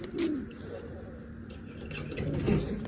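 Soft pigeon coos rise and fall a few times against a low, murmuring background with faint rustling.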